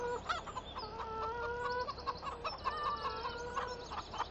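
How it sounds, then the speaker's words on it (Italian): Chickens cluck continuously in a henhouse in Farming Simulator 17, with several hens overlapping in steady, busy chatter and no talk over them. "in questo pollaio c'è una pecora, ci sono le galline e c'è anche King Farmer."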